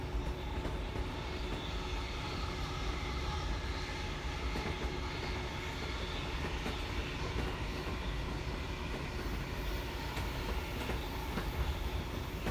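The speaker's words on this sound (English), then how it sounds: "Now arriving at Yeerongpilly Station. This train terminates here." A steady, broadband rumble of a train arriving at Yeerongpilly Station, continuous and fairly loud throughout, with no voices.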